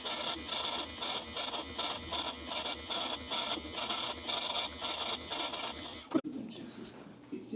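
A bench chainsaw chain grinder sharpens a saw chain in a run of rhythmic grinding bursts, roughly two per second, close and loud, then stops abruptly with a clunk near the end, leaving quiet room tone.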